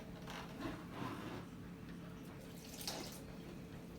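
Cold water runs steadily into lahmacun dough being kneaded in a bowl, a soft, continuous trickle with faint splashes and no talking.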